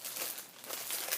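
A thin plastic bag holding wood veneers crinkles and rustles close by in a continuous soft, crackly stream of small irregular bursts.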